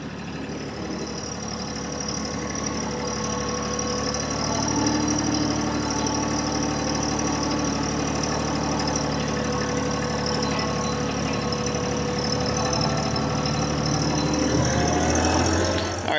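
A TYM T264 compact tractor's diesel engine runs steadily at a constant, fairly loud drone with a slight rise near the end as it pulls straight away from a detached backhoe; no one speaks.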